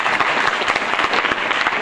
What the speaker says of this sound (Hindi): भाई बहनों के लिए बाद जोरदार ताली बजाएंगे।